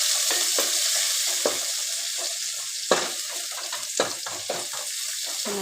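Cauliflower (gobi) frying in a pan on low gas is stirred with a spoon, giving a steady bright sizzle broken by several sharp scraping clatters, close and fairly loud, with no talking.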